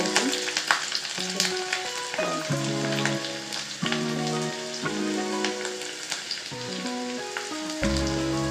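Chopped chillies and spices sizzle in hot oil as a tempering for sambar, a dense crackling fry heard up close over steady background music with sustained tones.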